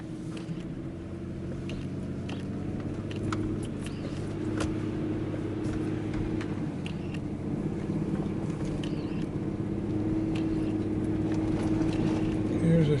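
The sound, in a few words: truck driving on a muddy, snowy road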